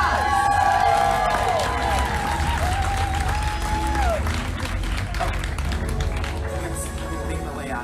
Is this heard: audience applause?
yes